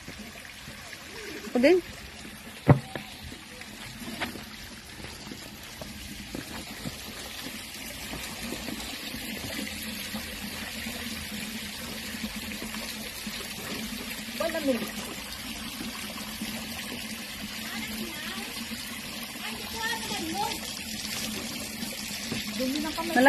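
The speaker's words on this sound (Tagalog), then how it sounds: "Ay, may sapa." A small stream trickles steadily on a Kowloon Peak hike, a soft continuous flow of water close by, with a few sharp knocks early and people talking quietly over it.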